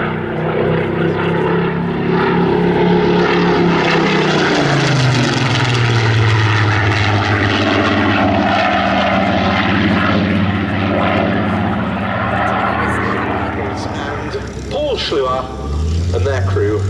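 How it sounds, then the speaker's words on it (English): Loud, close Griffon-engined Spitfire propeller engines drone continuously as the planes taxi at a Duxford air display, their pitch sliding and shifting, with a voice speaking over the roar. "rolling out as the last Spitfires taxi in"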